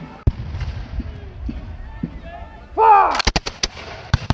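A company of Revolutionary War reenactors fires a musket volley, a burst of several loud close cracks near the end, after a shouted command over background chatter.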